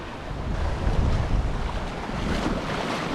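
Strong wind of about 23 knots roaring across the microphone aboard a sailboat crossing the Atlantic from Mindelo, Cape Verde, with lumpy three-metre seas washing past, a continuous close, loud rush.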